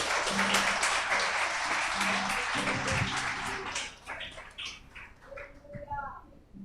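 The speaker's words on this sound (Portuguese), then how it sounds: "Dá uma salva de palmas para Jesus." Applause from a church congregation fills the first half, a dense wash of clapping under voices and a low musical tone that then thins out, leaving scattered voices and music.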